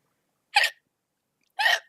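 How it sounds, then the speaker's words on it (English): Two distinct hiccups from a person, about a second apart, each short and fairly loud against silence, with no talking. "These hiccups, I tell you."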